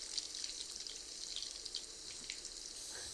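Potatoes fry in hot oil, giving a steady, close hiss with a crackle of fine pops and spits throughout, with no talking.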